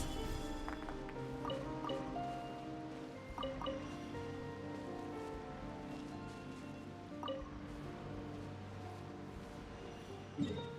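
Moving water in the Genshin Impact video game runs steadily as a dense trickling, dripping stream with scattered brighter plinks and chimes layered over it, heard alone without talk.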